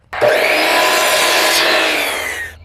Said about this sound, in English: I'm gonna come back and just cut this maybe like a 1/4 of an inch